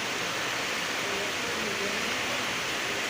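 Rain pours down outside a house, a constant broadband hiss of falling water that stays level and unbroken throughout, with no talk over it.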